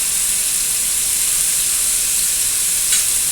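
Fish frying in a pan, a loud, dense, unbroken hiss of hot oil close by, with a brief sharper spit near the end.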